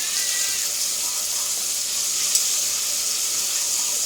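Chopped onions with salt sizzle steadily in a pan for parotta salna, a constant close hiss with no other sounds over it.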